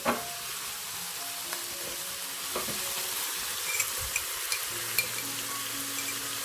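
Chili stir-fried in a hot pan for braised white radish with fermented bean curd, giving a steady, close sizzle with occasional scraping stirs and small pops.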